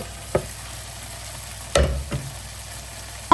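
Shrimp sizzling in a pan that already holds mushrooms, carrots and small pieces of cod for a creamy fish blanquette, a steady hiss broken by a few sharp clinks and clatters.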